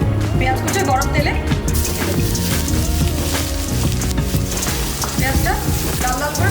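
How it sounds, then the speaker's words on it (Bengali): Chopped onions fry in four tablespoons of hot white oil in a kadai for a Bengali prawn dish. The loud sizzle is constant and bubbling, with stirring, and a voice talks over it throughout. "প্রথমে কড়াইতে 4 টেবিল চামচ সাদা তেল দিলাম। এবারে 1 বাটি পেঁয়াজ কুচি গরম তেলে"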